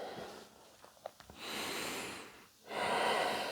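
Deep breathing during a yoga exercise, heard as a few short sniffing breaths followed by two long, close, airy inhales and exhales separated by a brief pause.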